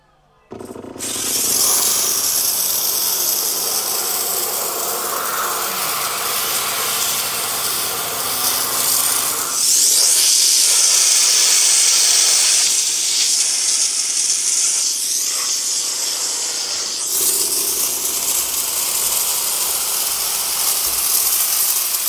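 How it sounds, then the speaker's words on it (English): Ganggend 2500W handheld steam cleaner spraying steam: a loud, continuous hiss starts after a brief silence and runs for about twenty seconds, shifting slightly in intensity as it is moved across a dirty area. "Turn the machine up and it'll start up."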